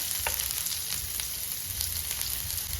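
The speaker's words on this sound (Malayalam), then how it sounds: "അതിലേക്ക് നമുക്ക് സവോള ഇട്ട് കൊടുക്കാം" Onion dropped into hot oil with popped mustard seeds for a Kerala-style carrot stir-fry, a constant, even sizzle with faint crackles, close and steady throughout, no voices.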